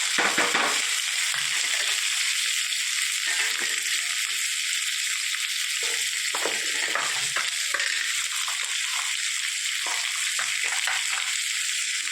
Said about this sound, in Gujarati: એમાં નાખીશું એક તમાલપત્ર એક બે લવિંગ તજના નાના ટુકડા 2-3 કાળા મરી ડુંગળી અને ટામેટા